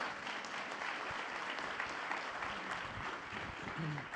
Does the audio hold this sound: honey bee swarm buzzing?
no